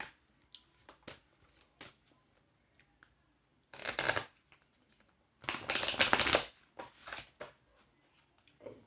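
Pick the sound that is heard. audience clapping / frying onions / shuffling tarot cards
shuffling tarot cards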